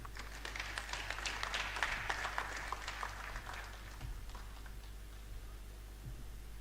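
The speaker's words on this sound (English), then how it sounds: "Another round of applause for the Pro-Chancellor and the Chairman of the Governing Council of University of Lagos" Scattered applause from a convocation audience at the University of Lagos, fairly distant and thin in a large hall, swelling in the first few seconds and then thinning to sparse claps.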